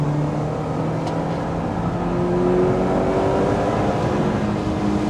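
Lotus Elise 240 Final Edition driven fast on a test track, a steady engine drone heard from inside with slowly rising pitch, constant and moderately loud throughout.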